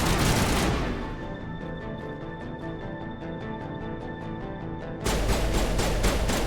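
Rapid, dense gunfire in the video game Mass Effect, fired at a wall: a loud sustained burst of shots that eases briefly, then swells again near the end, with no talk over it.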